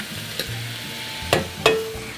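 Tomatoes get stirred into shrimp and onions frying in a pan, a steady sizzle under a few sharp spoon scrapes and clinks, close and alone.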